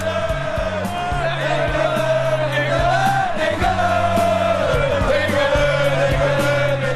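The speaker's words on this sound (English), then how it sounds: "But we can hear a crowd somewhere singing England," A crowd somewhere at an EDL gathering in Britain chants 'England' in unison, a loud, sustained, tuneful group chant filling the whole stretch with rough shouting voices layered together.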